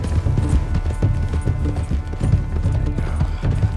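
Horse hooves clip-clop at a steady galloping rhythm in the Red Dead Redemption 2 video game, close and fairly loud, with no talking.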